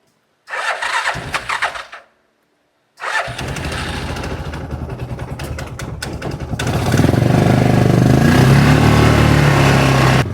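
A Yamaha Rhino UTV engine cranks briefly, cuts out, then catches and runs up close and loud, building to a stronger roar as the machine pulls away over wet ground.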